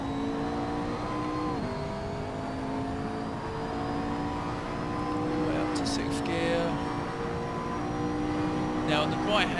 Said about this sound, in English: Now floor it now, get it on the throttle as early as possible.